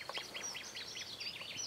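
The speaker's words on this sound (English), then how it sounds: "You can hear the nightingale in the background there as well." A nightingale sings in a garden among poppies, a rapid series of bright, repeated chirping notes in a quick rhythm, set back at a moderate distance.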